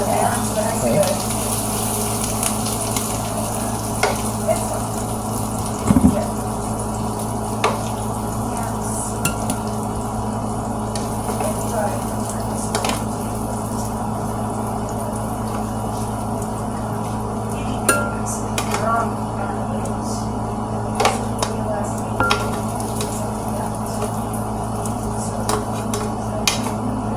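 Large meatballs frying in a pan, a steady sizzle running throughout with occasional clinks and knocks of utensils against the pan, heard up close with no talking.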